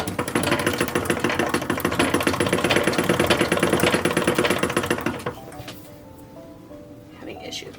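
Sewing machine stitching the sleeve of a sheer dress for an 1860s porcelain doll, running in a steady rapid chatter for about five seconds before stopping, leaving quieter handling sounds.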